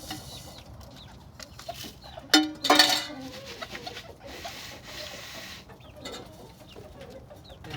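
Backyard homestead chickens cluck and squawk near a feed bowl, with a sudden loud burst of squawking and flapping around the middle over steady soft rustling and scratching.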